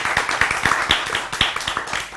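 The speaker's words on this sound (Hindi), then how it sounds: "भाई मेरे रिसर्चर्स के लिए हो जानी है तालियां" Brief burst of hand clapping from a small studio audience on a Hindi morning talk show, a quick ragged rhythm of claps lasting about two seconds.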